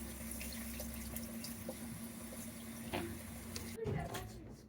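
Luffa pods are rinsed under a running tap, giving a steady close splashing stream of water that shifts and gurgles as the pods are handled, then stops abruptly near the end.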